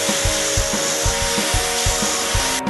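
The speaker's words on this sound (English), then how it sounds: "Like using my flat wheel in a hand drill." A flap wheel spun by a hand drill rubs against the wooden body of a Les Paul style guitar, giving a rhythmic, repeating scraping whir that pulses about twice a second, loud and close.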